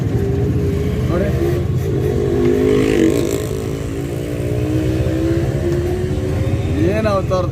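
A motorcycle carrying three riders, a man in a red shirt driving, passes close by with a loud droning, revving engine under steady road and traffic noise, with a brief rising whine near the end.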